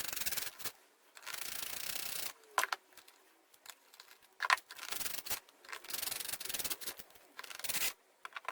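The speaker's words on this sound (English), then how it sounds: "And I'm just sanding that down a bit." Sandpaper rubs over a Telecaster guitar body during a refinish, in bursts of fast, raspy back-and-forth strokes broken by short pauses and small clicks.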